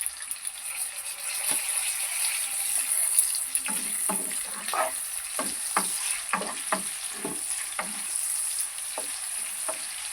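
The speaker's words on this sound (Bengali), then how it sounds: "এতে আমি কিছুটা বাটার 1 চামচ অ্যাড করব।" Onions frying in butter give a continuous bright sizzle, broken by frequent short clicks and scrapes of stirring, close and steady with no talking.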